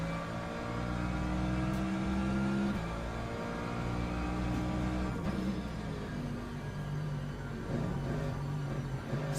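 GT3 race cars in a sim racing game at Spa lap the circuit, engines droning and revving steadily with shifting pitch as they accelerate and slow, loud and close without any talk.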